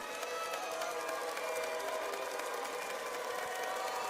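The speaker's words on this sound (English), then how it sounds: "Now the crowd trying to make some noise" Basketball arena crowd at a B.League game making a steady, dense roar to distract a free-throw shooter, continuous and fairly distant with no clear voices standing out.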